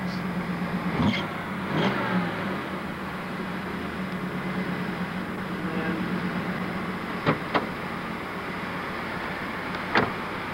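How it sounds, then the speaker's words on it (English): A tuned-port-injected 5.7 V8 engine in a Formula 350 idles with a deep, steady rumble and swells into a couple of revs, with a few sharp clicks and taps scattered over it. "then, of course, we have the V8 noise"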